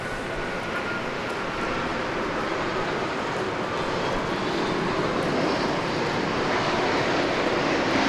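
A FlexJet Bombardier Challenger business jet lands at Dallas Love Field, its engine roar a steady, broad, loud rush that swells slightly and holds throughout.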